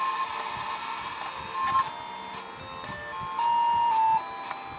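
Beeping 8-bit electronic tones from a discus throwing game on an i-PLAY micro arcade, a series of bright chirps and sustained bleeps over a faint background hiss, with no talk.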